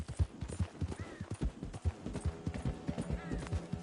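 A horse in Red Dead Redemption Online trots along with a steady clip-clop of hooves and an occasional soft whinny, set against quiet in-game ambience.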